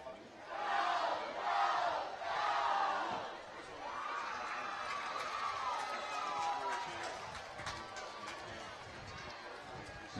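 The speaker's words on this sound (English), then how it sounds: "The Panther crowd hasn't let up at all tonight." Home crowd at a Central York Panthers high school football game against Cumberland Valley roars and cheers loudly in surges, a dense wash of voices and shouts filling the stadium, with an announcer's voice heard faintly over the noise.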